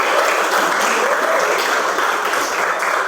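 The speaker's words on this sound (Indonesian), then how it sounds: "Tepuk tangan untuk Wira." Students in a classroom give a round of applause, a bright, dense patter of many hands clapping at a steady level for a few seconds, with no talk over it.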